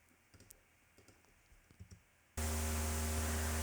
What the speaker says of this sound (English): we'll play this synth noise